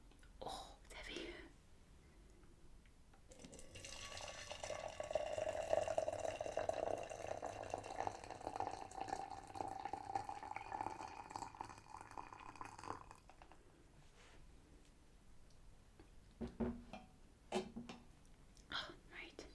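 Freshly boiled water pours steadily into a teapot for several seconds, a gurgling stream rising in pitch as it fills, followed by soft clinks and a quiet voice.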